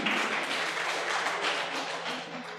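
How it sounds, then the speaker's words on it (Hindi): A crowd at a retirement ceremony claps in a thick, continuous wash of applause. The sound holds steady at moderate loudness and eases off slightly toward the end, with no voices over it. "तालियों में कमी नहीं रहनी चाहिए।"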